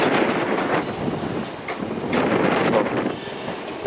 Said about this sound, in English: The next train to depart will be the final one to depart